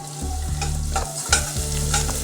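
Small chopped garlic pieces sizzle in butter in a pan, a loud continuous frying hiss with stirring scrapes and a low steady hum underneath, heard up close with no voices.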